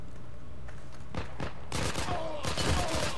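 Enemy gunfire in the video game Heroes & Generals: several sharp shots crack out in quick bursts, growing louder and denser toward the end, over a steady low background hum.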